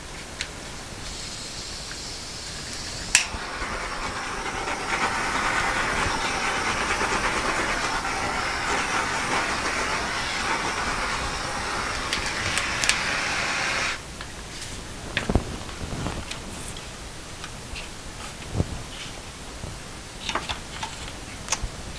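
A heat tool blows a steady, breathy hiss over an acrylic dirty pour for about ten seconds and then cuts off, leaving faint ticks and small handling noises.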